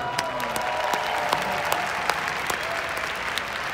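Audience applause at a large convention after a speaker's remark, a steady roar of many hands clapping with sharper individual claps standing out, sustained and fairly loud.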